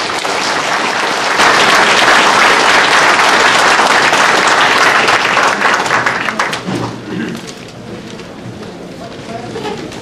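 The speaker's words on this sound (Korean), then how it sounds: "박수로 맞이합니다" Audience applause welcoming a speaker at a panel discussion, loud dense clapping that swells, holds, then fades toward the end, with voices entering as it dies down.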